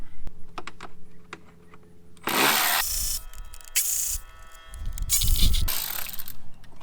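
Power tool spinning out T25 Torx screws from a Jeep Wrangler JL fender, with two loud broadband whirring bursts separated by quieter handling clicks and scraping, close up.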